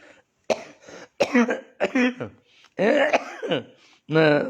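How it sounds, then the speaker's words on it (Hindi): Several short, sharp coughs in a row, close to the listener, with brief pauses between them. "ये तकलीफ वाली खांसी नहीं है, आप निश्चित रहें।"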